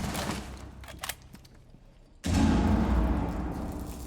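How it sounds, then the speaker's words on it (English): Gunfire rattles through a competitive Rainbow Six Siege esports match, first as scattered distant shots and then as a sudden loud, sustained burst of rapid shooting that dominates the mix. "More gunshots does come out."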